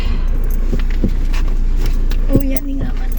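Keys jangle in short metallic clinks against a constant low rumble of a car interior, with a few light taps and a brief voice near the end.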